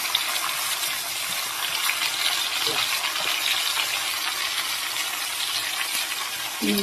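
Taro leaves and turmeric going into a hot frying pan of oil with chillies, giving a steady, close hiss and sizzle that holds evenly, with a brief clatter near the end.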